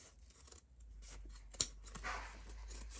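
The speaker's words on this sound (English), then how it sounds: "I'm just going to trim" Scissors trim apart stitched fabric pieces with one crisp, close snip near the middle, surrounded by quieter rustling of cloth being handled.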